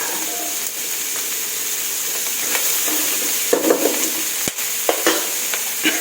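Chive flowers are stir-fried in a pan with shrimp paste and pork belly. A steady sizzle and hiss carries throughout, with a few sharp spatula clacks and scrapes toward the end.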